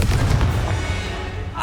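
A Confringo spell bursts in Hogwarts Legacy combat, a heavy, booming blast with a rumbling low tail, loud and close throughout the short moment.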